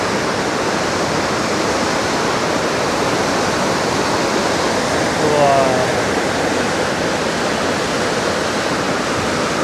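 Floodwater rushing after a cloudburst in Kullu-Manali, a loud, steady broadband roar of torrential water filling the whole clip, with a brief faint voice partly buried in the noise midway.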